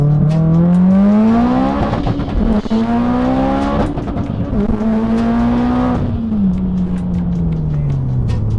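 A turbocharged car engine pulls hard with rising pitch, drops briefly at a shift, then climbs again before easing off, loud and close.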